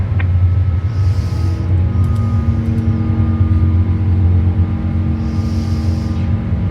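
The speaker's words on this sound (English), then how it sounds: "You can definitely hear those engines." Simulated airliner jet engines on takeoff in Microsoft Flight Simulator 2024, a loud steady low roar with a constant hum running throughout, heard alone.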